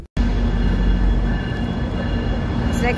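A train rumbles past close by in a dense, steady roar that starts suddenly, with a brief squeal near the end.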